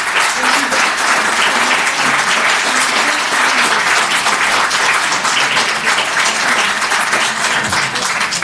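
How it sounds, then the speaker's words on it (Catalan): Sustained, loud applause from an audience closing a public talk on pension system sustainability, dense clapping continuing evenly throughout. "Aplaudiment"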